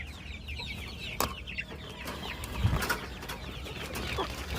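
A bamboo line hen clucks softly at close range on a poultry farm, with a few scattered low clucks and faint background bird and farm noise.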